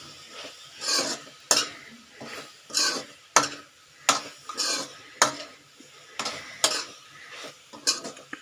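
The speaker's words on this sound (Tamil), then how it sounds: "இப்போ எல்லா மசாலையும் போட்டுட்டோம் நல்லா பரட்டி விட்டுக்கலாம்" Masala being stirred into soya chunks in a pan for a pepper fry, a spoon scraping and clinking against the metal in repeated strokes over a faint sizzle, close and fairly quiet, with no talking.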